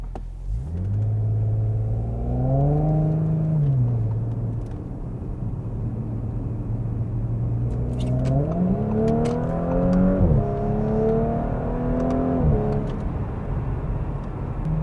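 An Audi S4 B9 fitted with hybrid turbos accelerates hard, its engine rising through the gears with rumbling pulls and quick shifts, close and loud, ending in a second strong surge with a few sharp pops.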